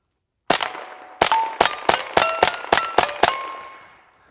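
A Kriss Vector .22LR fires CCI Mini-Mag rounds outdoors, nine sharp, close shots in an uneven string, each with a bright crack and a short ringing tail.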